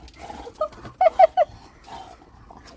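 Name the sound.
dog barking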